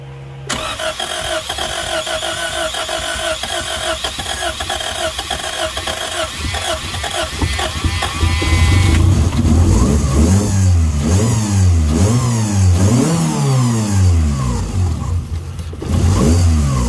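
A Honda Civic EK engine cranks briefly, fires and settles, then is revved repeatedly in rising and falling surges, loud and close throughout with no talking.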